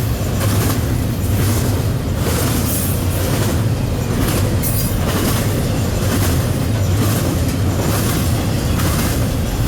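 CN 3398, an AC44C6M locomotive, leads the Q199 intermodal freight train past at Ladysmith, Wisconsin, a steady, loud rumble of engine and rolling cars with faint wheel clatter throughout.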